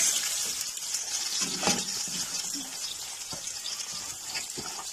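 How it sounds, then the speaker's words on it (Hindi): Chopped onions fry in hot cooking oil on a stove, a steady bright sizzle with crackles and occasional stirring scrapes, continuous and fairly close. "ऑयल हमारा अच्छी तरह गर्म हो चुका है, तो अब हम डालेंगे प्याज।"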